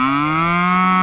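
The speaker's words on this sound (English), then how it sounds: "Cow." A single cow lets out a loud, close moo, a sustained tonal bellow that rises slightly in pitch and holds steady for about a second, with no other sounds around it.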